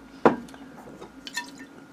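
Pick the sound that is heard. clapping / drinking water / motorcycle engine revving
drinking water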